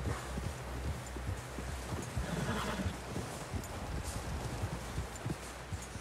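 Horses in Red Dead Redemption 2 clip-clopping at a steady pace with occasional snorts and whinnies, close and continuous over a low rumbling background; no speech.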